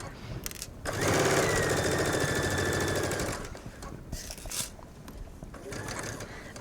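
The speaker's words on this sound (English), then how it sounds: "Line up the edge back with your foot, and then you're going to stitch up the other side." A sewing machine stitching a fabric seam on a top's neckline, a fast even mechanical whirr running for about two seconds after brief starts and stops, close and loud, followed by softer handling noises.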